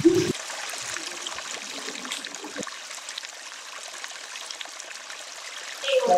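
Water streams and trickles steadily to waste outdoors, a continuous broadband rush at moderate level with brief voices and clatter at the start and end.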